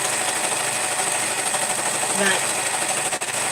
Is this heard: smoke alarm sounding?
no